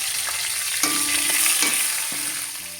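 Green chilies crackling in hot oil with cumin seeds and bay leaf, a strong steady sizzle close by, punctuated by a few stirring scrapes and sharper spits, with no voices.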